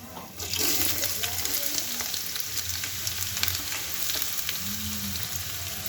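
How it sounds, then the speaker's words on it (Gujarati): Onion goes into hot oil in a kadai for pav bhaji, starting a sudden loud close sizzle that continues steadily with small crackles and stirring clinks. "હવે આપણે આ 1 કડા નાખશું તેલ। આપણે નાખીશું ડુંગળી"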